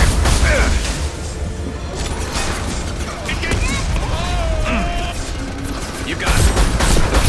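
Gunfire in Mass Effect Legendary Edition, dense mechanical clatter and shots over loud battle noise, with voices calling out amid the fighting.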